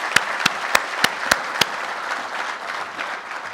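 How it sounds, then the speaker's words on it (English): An audience at a medical education forum gives a round of applause for a speaker. It opens with six sharp, evenly spaced nearby claps over a softer spread of clapping that carries on at a moderate level. "I want to just also ask for another round of applause for Jeff's excellent talk."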